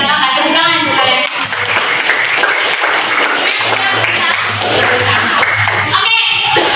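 Middle-school students in a classroom clap together in a burst of applause, a dense patter of hands that is loud and close, with voices mixed in.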